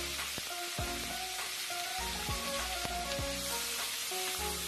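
Sliced pork hitting hot oil in a wok gives off a loud, dense, continuous sizzle, with a spatula scraping and clanking against the pan at intervals over the crackle.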